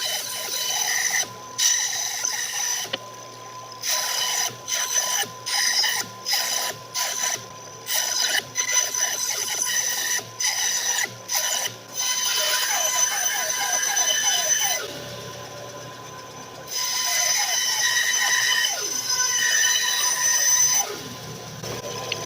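A Harbor Freight bandsaw cuts out a wooden piece in bursts, its rasping blade whine starting and stopping repeatedly, with a steady high tone and some louder sustained cutting near the end.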